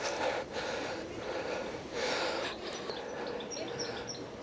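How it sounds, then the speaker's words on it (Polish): Heavy panting breath from a person walking outdoors on a rocky coast in Ribadeo, Spain, with rhythmic loud rasping inhales and exhales close to the microphone against wind noise. "Sorki, że tak sapię"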